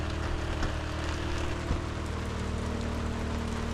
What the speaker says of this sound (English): But not a snowflake in sight. I was hoping we'd be seeing it starting up higher and gradually lowering, but nope, raining everywhere.